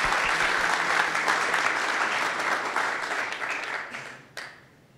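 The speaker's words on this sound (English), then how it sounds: "I think that deserves another round of applause." An audience at a Google tech conference talk applauds, a dense burst of clapping that is loud at first and fades away over a few seconds.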